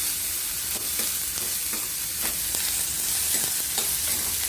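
Sliced capsicum for a groundnut-powder shimla mirchi bhaji is stirred as it fries in oil in a pan, giving a steady, close sizzle broken by repeated scraping stirs.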